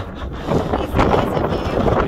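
Strong wind gusting across a Scottish mountain summit, a broad continuous roar buffeting the microphone close by, with a person talking underneath.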